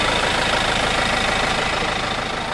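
Tour bus engine idling at a mountain roadside after overheating on the climb: a steady, close, rough mid-to-low rumble with a faint knocking texture, continuous and unchanging, with no voices.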